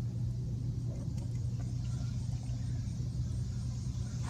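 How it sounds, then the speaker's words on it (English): A truck engine idles nearby with a steady, deep rumble that holds unbroken and loud throughout, no voices over it. "I'm gonna shut the truck off."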